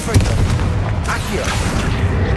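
The Confringo blast spell explodes in Hogwarts Legacy, a loud, booming burst with rumbling crackle throughout, and a voice is heard alongside the blast.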